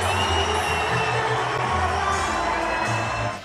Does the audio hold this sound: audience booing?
yes